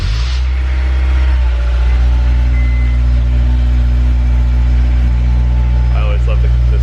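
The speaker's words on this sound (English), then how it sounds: "here's a little cold start for you guys." A Honda S2000 sports car engine cold-starts and settles into a loud, rough idle with a deep steady rumble, revving slightly high as it runs on.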